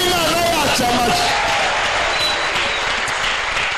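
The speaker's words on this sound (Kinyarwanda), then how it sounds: "Reka dukomere Imana yacu amashyi." A church congregation breaks into steady applause, a broad crowd of clapping that holds for the whole stretch, with a voice and some musical tones heard over it at the start.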